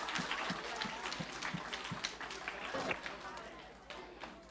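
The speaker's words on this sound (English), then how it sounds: "So give a round of applause for Gia." Faint, distant applause from a school audience at a World Book Day event for a year 10 student, with steady clapping and crowd chatter running underneath throughout.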